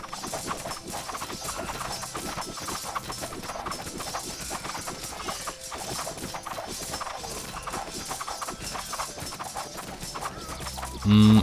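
Horse archers gallop in the strategy video game Circle Empires, with loud, continuous hoofbeat clatter mixed with battle effects, ending on a brief, louder tone.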